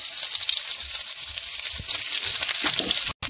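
Onions sizzle and crackle in hot oil for a crab curry, a loud, close, continuous frying hiss with a few stirring knocks near the end, and no voices.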